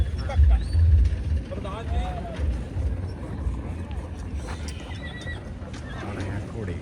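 Horses whinny and snort amid a busy outdoor crowd at the Muktsar horse fair in Punjab, India, with people talking and milling about nearby; hooves and movement blend into the steady background bustle.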